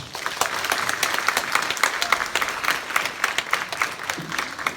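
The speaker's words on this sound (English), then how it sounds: "give her a round of applause" Applause from a morning audience welcoming a space center presenter, a dense wash of many hands clapping steadily for several seconds.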